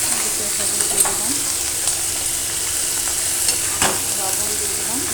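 Bottle gourd peels fry with onion, salt and turmeric in a pan, giving an even, close sizzle with a few light stirring scrapes.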